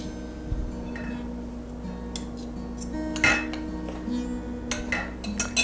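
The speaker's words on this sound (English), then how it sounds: "Take small spoonfuls and drop them on top of the hot sauce." Small spoonfuls of dough dropped onto hot blueberry sauce in a pan for a blueberry slump, heard as a string of close metallic spoon clinks and taps against the pan over a steady low kitchen hum, with no talking.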